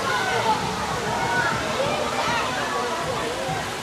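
Spring water gushes from higher ground on a wide island, a steady broadband rush and slosh running throughout, with people talking over it.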